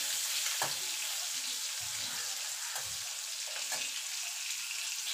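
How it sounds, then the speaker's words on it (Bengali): Prawns frying lightly in hot oil in a pan, a continuous bright crackling sizzle with a few soft stirring knocks, close and fairly quiet, no voices. "চিংড়ি মাছটাকে একটুখানি হালকা করে ভেজে নেব।"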